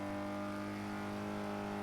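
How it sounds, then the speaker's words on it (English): An old Alpine car engine in Forza Horizon 3 hums at a steady, faint drone with a constant tone and no talking over it. "And again, I'll let you hear the Alpine briefly now."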